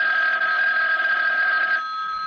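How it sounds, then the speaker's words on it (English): An old-style telephone bell in a 1980 radio drama rings in one continuous loud, metallic trill for nearly two seconds, then stops abruptly, with no voices. "And then the phone rang."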